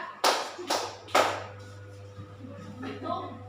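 Hand claps in a classroom counting exercise: a few sharp, fairly close claps in a loose rhythm, then softer taps, with a low steady hum underneath.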